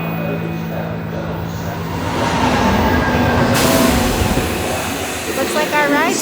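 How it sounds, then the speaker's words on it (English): An overnight train pulls into a platform at a Rome station, a loud rumbling roar of wheels and carriages building and holding close, with a tonal hum and squeal near the end and people talking. "Our train has arrived."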